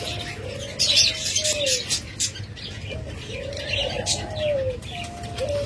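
Pet pigeons in a bird shop coo in repeated rolling, throaty calls, a few close by and fairly loud, with chirps and brief wing flutters among them.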